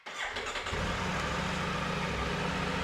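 A Triumph Tiger 900 Rally Pro motorcycle on its stock exhaust cranks briefly and fires up, then settles into a loud, steady rumbling idle close to the microphone.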